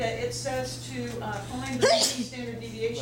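A single sharp sneeze from a student breaks into a statistics lecture in a classroom, heard over the lecturer's continuous speech.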